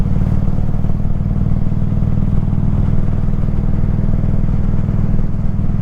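An Indian Super Chief Limited motorcycle cruising, its engine a loud, steady low rumble that holds close and constant throughout with no talking.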